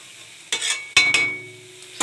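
Taro greens with shrimp stirred in a frying pan with dried chili: a few close scraping strokes of a utensil against the pan over a soft sizzle.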